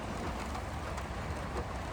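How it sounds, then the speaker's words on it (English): Rain patters steadily on a parked car while heard from inside, a dense, even hiss with scattered drops, continuous and moderately close. "we are in the back of my car because it is raining"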